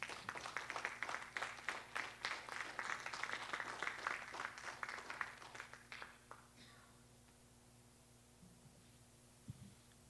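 Loud applause from a church congregation fills the first six seconds, then fades out, leaving a low steady hum and a brief knock near the end.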